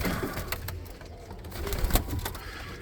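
Roller pigeons in a loft coo softly, a low steady murmur of several birds under a continuous background hum, with a few brief sharper flutters or clicks.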